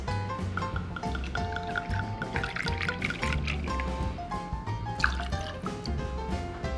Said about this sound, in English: So we pour the same 30 milliliters, 1 ounce.